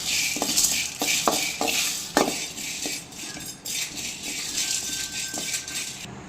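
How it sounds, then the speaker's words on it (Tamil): Black pepper, dried red chillies and curry leaves are dry-roasted in a pan. A spoon scrapes and clinks against the metal in an uneven rhythm over a dry rustling hiss. "இப்போ இது கூட 4 வரமிளகா, 1 கொத்து கருவேப்பிலை இதை ஆட் பண்ணி நல்லா வாசம் வர அளவுக்கு வறுத்துக்கலாம்"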